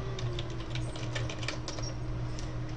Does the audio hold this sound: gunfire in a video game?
no